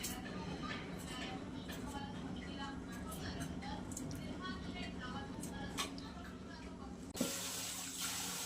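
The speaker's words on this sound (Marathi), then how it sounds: "पाण्याने आपण हे धुवून घेतलेला आहे बटाटा" Tap water running over grated potato being washed in a sink, a steady close splashing stream with faint clinks, ending in a louder sudden gush near the end.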